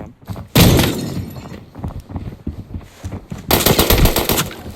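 Loud rapid gunfire from a new G3 rifle in the shooter Arena Breakout, with two heavy sustained bursts separated by quieter scattered shots and rustling, close and dominant.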